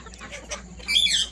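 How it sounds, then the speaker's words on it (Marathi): Free-range desi chickens on a farm give a few short clucks and squawks, the loudest burst near the end, over a quiet outdoor background. "बघा मित्रांनो प्युअर देशी कोंबड्या"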